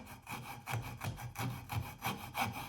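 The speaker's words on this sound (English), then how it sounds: "And we'll go to the coping saw and get rid of this material." A coping saw cutting through the wooden head of a shoveler hen duck decoy held in a vise, with rhythmic back-and-forth rasping strokes, close and fairly quiet, and nobody speaking.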